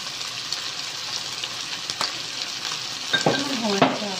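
Pad krapao (Thai holy basil stir-fry with century egg) sizzling in a pan with dark, sweet and light soy sauces, steady frying hiss with a few utensil clinks and stirring scrapes near the end.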